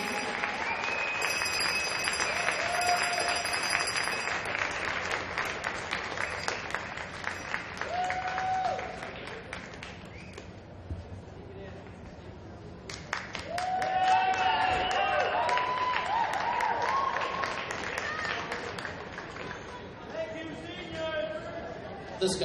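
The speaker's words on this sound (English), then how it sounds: "let's have a nice round of applause for all of the graduating seniors and their families" Crowd at an RPI women's hockey game against Colgate gives sustained applause for graduating seniors and their families, dense clapping with chatter, arena horn tones and music over it.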